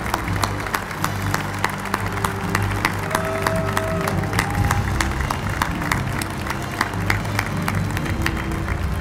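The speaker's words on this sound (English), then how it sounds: "give them a round of applause for our distinguished Ganji Award recipients." Applause rises from an audience at the National Veterans Golden Age Games for Ganji Award recipients; steady clapping runs throughout over a low, busy hall rumble with some background music and murmur.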